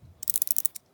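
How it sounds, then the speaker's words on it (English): Westclox Leland alarm clock mechanism on its first run after reassembly, giving a quick close burst of about ten sharp metallic clicks in under a second, then quiet. "I don't remember this thing making so many clicking sounds"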